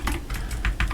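A short, loud burst of computer keyboard typing up close, four or five distinct key presses in quick succession while coding, with no talking.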